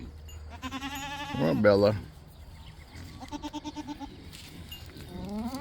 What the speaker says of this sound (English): Oh, the little goat wants attention.